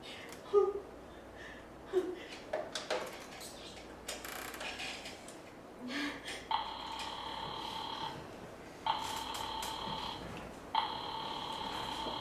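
An old-fashioned telephone rings in three repeated bursts, loud and close, after a stretch of faint clattering and mechanical noises.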